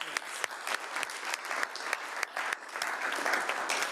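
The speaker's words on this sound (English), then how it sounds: "Let's give him a round of applause for his dedicated service." Applause breaks out from the audience at a city council meeting, a steady patter of many hands clapping across the room for several seconds, fairly soft and moderately distant.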